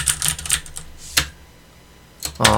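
Someone types at random on a computer keyboard, a few quick bursts of clacking keystrokes separated by quiet pauses, close and crisp.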